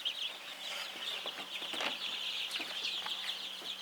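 Young chicks in a stack brooder on a farm keep up a dense, steady chorus of high peeping and chirping, with a few soft clucks, close and continuous throughout.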